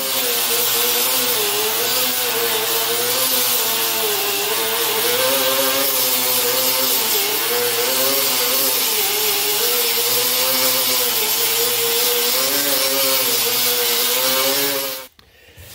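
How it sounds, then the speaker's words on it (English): An angle grinder runs continuously on a welded car body panel seam where factory seams were replaced by cut and butt. It sounds loud and close with a steady whine that wavers slightly, then stops abruptly at the end. "I've had to grind it up and then I re-welded a couple spots and re-grind it again"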